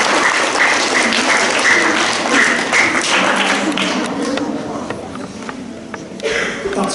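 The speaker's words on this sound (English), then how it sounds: "Give a nice round of applause to Laura." A large audience at a school celebration assembly claps loudly in a dense, sustained round of applause that gradually thins toward the end, with a few voices underneath.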